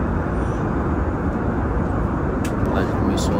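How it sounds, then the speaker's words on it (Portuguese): A cabin roar from an airplane just after takeoff, heard from inside as a loud, steady broadband rumble that holds throughout with a few faint higher clicks near the end. "Acabou de levantar o avião"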